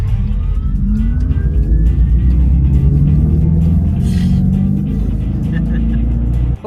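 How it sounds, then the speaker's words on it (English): A Dodge electric muscle car plays its simulated Power Shot engine sound, a loud, continuous deep rumble with rising, revving tones heard close up from inside the car. "Here's the power shot sound."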